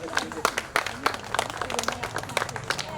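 Clapping from an annual day celebration audience, dense uneven hand claps rising and falling steadily, moderately loud in an indoor hall.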